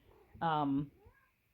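A house cat meows once for attention, a short, clear, tonal call close by in a quiet kitchen pantry.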